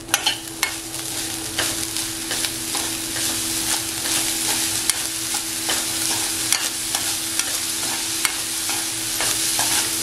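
Fried grated coconut and jaggery are stirred in a pan, the spoon scraping and tapping in a steady rhythm over a continuous light sizzle.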